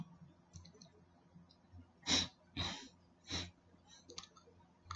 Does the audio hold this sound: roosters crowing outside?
no